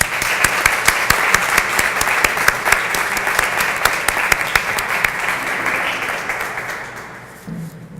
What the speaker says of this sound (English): Let's give everyone involved with Music Haven a great round of applause.